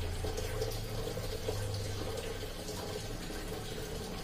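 Water steadily filling the tub of an LG top-loading washing machine, a soft continuous rushing hiss, fairly quiet and with no voices.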